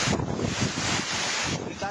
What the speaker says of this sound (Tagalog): Tila galit na galit ang hangin na may kasamang ulan ng manalasang Bagyong Tino sa Kinapondan